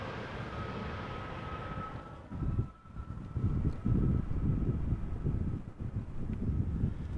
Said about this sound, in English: This is an Embraer 190 arriving from Bristol